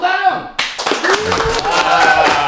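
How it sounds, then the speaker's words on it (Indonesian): Hands clapping on a talk show set after a host calls for applause for guests from Ghost Ranger Indonesia, a few distinct claps alongside voices and laughter close by. "Tepuk tangan."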